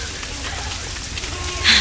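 Rain falls in a dense, steady hiss that swells near the end, part of a soul song about walking in the rain.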